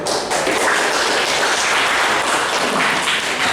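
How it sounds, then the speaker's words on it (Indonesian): A class of students at a vocational high school applauds after group presentations in an Islamic religious education lesson, a dense, loud burst of many hands clapping together, sustained steadily for a few seconds. "kita beri aplaus dulu"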